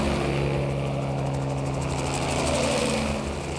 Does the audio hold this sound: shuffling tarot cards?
no